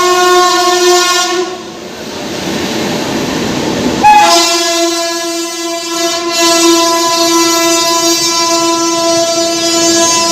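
A Rupasi Bangla Express (12883, Santragachi to Purulia) overtakes on the neighbouring track, its horn blaring loud and sustained through most of the pass over a steady rumble of wheels and carriages.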